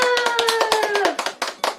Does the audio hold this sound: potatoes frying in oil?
no